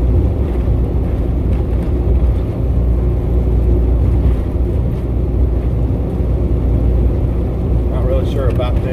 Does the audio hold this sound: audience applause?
no